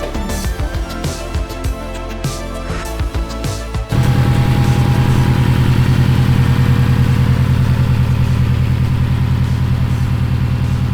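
Subaru STI engine, recently repaired after a crash, cranks and fires at the bottom of a quiet street, then settles into a steady, loud, rumbling idle close by while the coolant is bled.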